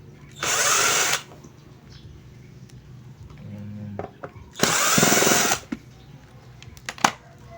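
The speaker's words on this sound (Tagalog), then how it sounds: "Tatanggalin natin tong tornilyo." A cordless power drill unscrews the two screws holding together a Nexpro rechargeable sprayer, with two loud whirring runs of about a second each and quieter handling clicks and taps between them.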